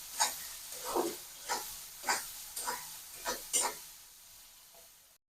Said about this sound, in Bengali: চিংড়ি মাছ দিয়ে সুন্দর করে নেড়ে চেড়ে নেব